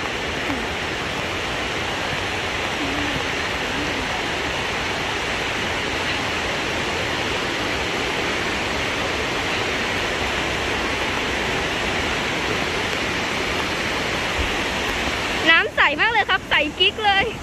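A waterfall with clear water in Ranong roars in a continuous, loud, even rush for a long stretch, before a brief clatter of sharper sounds near the end.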